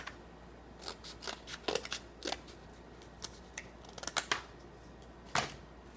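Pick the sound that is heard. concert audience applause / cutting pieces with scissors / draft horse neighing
cutting pieces with scissors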